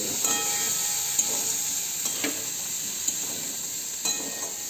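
Soybean chunks frying in a pan make a continuous hissing sizzle with a few faint clicks and pops over the steady crackle.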